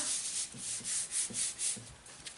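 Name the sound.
rubbing over an embossed craft card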